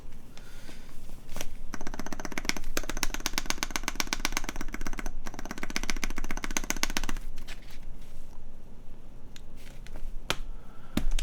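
Rapid, dense clacking of a Meletrix Zoom64 mechanical keyboard being typed on fast and steadily for several seconds, then slowing to a few scattered keystrokes near the end, close and clear.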